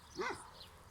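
A dog in a rural village gives a single short, faint bark or yip from some distance, with quiet outdoor background around it.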